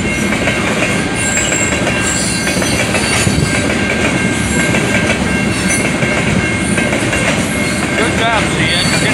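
A freight train rumbles past at close range, wheels clicking rhythmically over rail joints with a sustained metallic squeal and steady roar.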